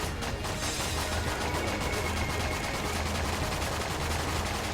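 Steady, dense gunfire from the twin-stick shooter Enter the Gungeon during a boss rush, a continuous rattle of rapid shots at moderate volume with no talk over it.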